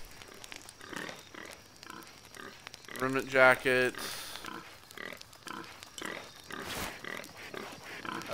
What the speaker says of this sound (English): That pig is driving me crazy.